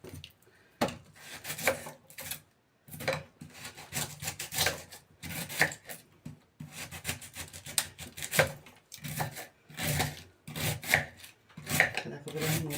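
Cabbage is cut coarsely by hand with a knife for a sweet cabbage dish, giving repeated crunchy slicing strokes in uneven bursts with short pauses, close and moderately loud.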